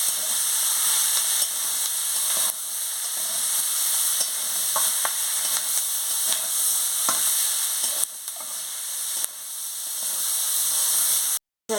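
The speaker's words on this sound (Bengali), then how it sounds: "দিয়ে ভালো করে ভেজে নিচ্ছি।" Steady, close sizzling of ingredients frying in a pan for kudli chorchori, a Bengali vegetable dish, with scraping stirs, continuous hiss throughout and no talk.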